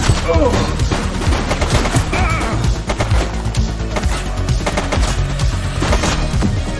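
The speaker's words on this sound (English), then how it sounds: "Shots fired!" Rapid gunfire rattles through a police shootout in the video game The Precinct, dense loud bursts of automatic shots running almost continuously with shouted voices mixed in.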